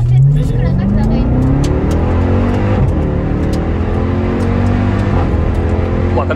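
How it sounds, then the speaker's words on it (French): A supercar accelerates hard on a track day ride, its engine climbing through rising harmonic sweeps that drop at each gear change, with exhaust pops and crackles between shifts; the car is loud and close, with people talking over it. "comme ça pète quand on passe les rapports"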